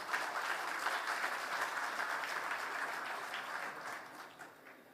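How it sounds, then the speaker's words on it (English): Applause from a conference audience at the Water Philippines Conference and Exposition, a steady, moderately loud wash of many hands clapping that slowly tapers off toward the end. "Round of applause, everyone."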